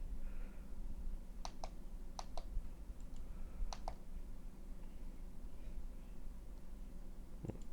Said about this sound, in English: Clicky button's working.